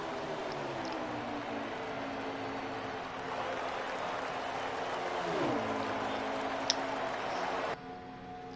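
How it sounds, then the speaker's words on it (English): Crowd applause at the front stretch of Daytona in NASCAR Heat 4, a steady broad wash of clapping mixed with engine drone from cars, continuous and moderately loud throughout. "I hear the crowd clapping on the front stretch."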